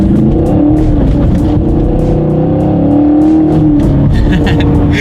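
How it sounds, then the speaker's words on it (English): A 2019 Chevrolet Camaro SS engine roars loudly as it accelerates, with sharp exhaust crackles and pops toward the end. "that exhaust crackle at the end there"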